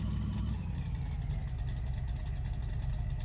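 A V8 ramp truck kept in a barn idling, a steady low engine rumble with a faint rhythmic patter, even and continuous throughout, no voices.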